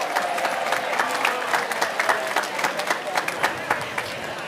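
An audience claps steadily at a West Indian American and Caribbean gathering in New York City. The applause is dense and sustained, with a speaking voice running beneath it.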